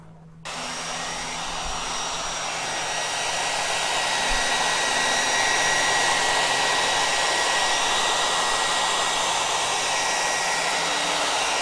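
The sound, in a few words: hair dryer blowing to warm honey and melt wax cappings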